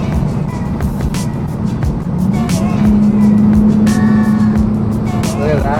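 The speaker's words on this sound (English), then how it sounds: "Feels so nice to drive in the bug right now." A Volkswagen Beetle being driven, its air-cooled engine humming steadily with a rising whine as it pulls through gear, road noise underneath and someone talking over it.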